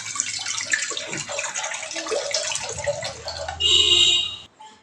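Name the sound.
water being added into pressure cooker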